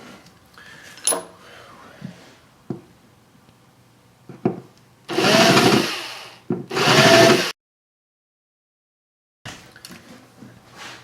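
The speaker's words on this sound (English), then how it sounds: "Now I'm going to countersink the holes just slightly so that the top edge is not sharp" A countersink bit cuts shallow bevels into screw holes in the wood of a 1960s Gibson J-45 acoustic guitar. Two loud, close whirring bursts of about a second each come amid small knocks and handling clatter, with a silent gap afterward.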